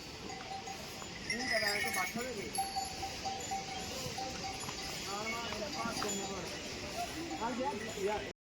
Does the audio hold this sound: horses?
yes